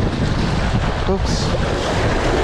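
Wind and sea waves buffet a small boat out on the water during a fishing trip, a steady, loud roaring wash that never lets up, with a brief faint voice near the middle.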